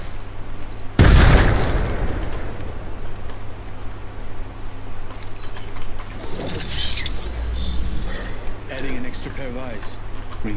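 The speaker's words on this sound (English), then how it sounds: "Grenade!" A grenade explodes in a video game with a sudden loud boom and a short rumbling tail, followed by scattered distant pops and shots under continuous talk from players.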